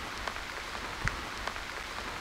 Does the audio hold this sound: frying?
no